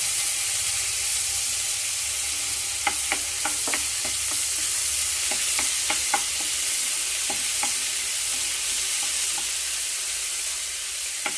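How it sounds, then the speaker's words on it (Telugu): Ginger garlic paste and turmeric sizzle in hot oil for a vegetable dish, a continuous close hiss with scattered sharp ticks and spatters as the paste is stirred, no voices over it. "అల్లం వెల్లుల్లి పేస్ట్ వేసుకుందాం ఆయిల్లో."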